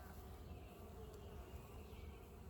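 Bees buzz around a resource hive in a dense, steady hum of many insects, faint and continuous without any talk.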